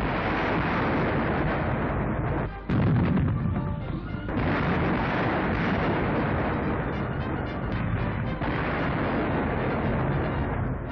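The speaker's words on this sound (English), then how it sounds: "Adding their vicious crack to the mounting crescendo, the short 25s have an enormous effect on morale." Short 25-pounder field guns fire in a continuous barrage during a beachhead landing, heard as a dense, loud wall of overlapping booms and cracks with one brief dip.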